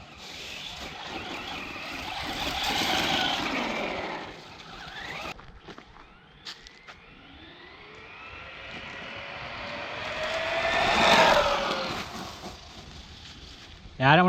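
A Traxxas Rustler 4x4 VXL RC buggy with a test body makes two passes, its electric motor whine rising and fading as it approaches and moves away. A voice can be heard faintly in the background.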